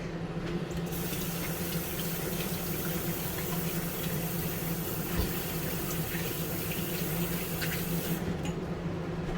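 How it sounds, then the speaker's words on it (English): Water from a kitchen sink faucet runs over a hand being rinsed during cooking, a steady loud splashing hiss that continues for about nine seconds and cuts off near the end, with no talk. "let me rinse my hand really quick"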